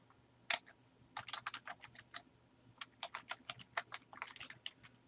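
Keys on a computer keyboard clatter nearby in quiet, irregular bursts of quick taps with brief gaps between them.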